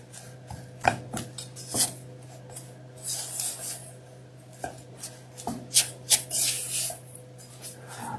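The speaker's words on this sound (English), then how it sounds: "Mix it around." Dry stuffing ingredients, with bread and a little parsley, are tossed and mixed in a bowl for a kids' Thanksgiving recipe, giving scattered close rustling scrapes and soft rubbing bursts with several sharper taps against the bowl.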